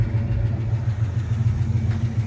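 A 1968 Ford F250 pickup truck engine idling nearby, a steady low rumbling drone with slight rhythmic pulsing and no talking over it.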